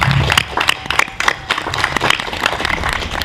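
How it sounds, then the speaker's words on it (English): Outdoor applause for a speaker at a protest march, with a scattered crowd clapping unevenly, moderately loud and fairly close, with a few sharper individual claps standing out. "I just want to have another round of applause for Joe."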